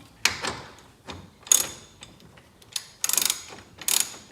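Two 10mm bolts being loosened with a ratchet on a 2007 Audi A4 during an AC repair: several short bursts of close mechanical ratcheting clicks separated by brief pauses, with no talking.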